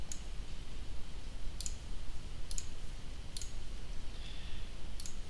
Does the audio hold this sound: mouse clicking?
yes